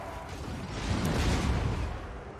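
A catapult shot in the battle strategy game Total War: Warhammer II swells into a broad rumbling whoosh and impact that rises, holds loudly for about a second, then fades, with no speech.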